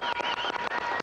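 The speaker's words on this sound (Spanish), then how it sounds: "Aplauso," Audience applause for a rock band in a 1990 Mexican TV studio, a dense, steady burst of clapping lasting about a second.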